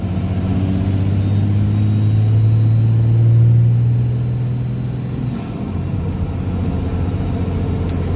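Cummins diesel engine in a red dually hotshot truck drones loud and steady under a high whine, swelling slightly as it pulls before easing off near the end.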